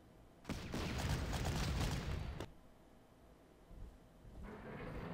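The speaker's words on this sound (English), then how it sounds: "Massive artillery bombardment." Massed artillery bombardment in the WWII strategy game Panzer Corps: a dense roar of overlapping blasts swells for about two seconds, breaks off with a sharp final crack, then fades to a low rumbling tail.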